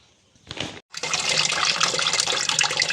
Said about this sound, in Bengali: দুটো বাসন আছে, সেগুলো আমি কিচেনে গিয়ে ধোবো